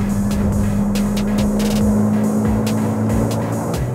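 A Ferrari Roma drives on the Inje Speedium race track, its engine giving a steady, loud tonal drone heard from inside the car, with faint ticks and bumps over it.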